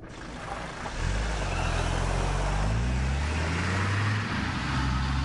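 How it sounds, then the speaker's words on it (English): A truck shaking in the video game The Quarry, heard as a deep, steady engine rumble that swells after the first second and stays loud and continuous with low throbbing. "Oh, that truck's shaking."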